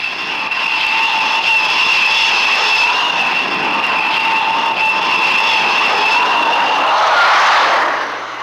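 A 20-ton navy airplane landing on a heaving aircraft carrier deck, a loud sustained jet engine whine and roar that swells with a rushing burst near the end.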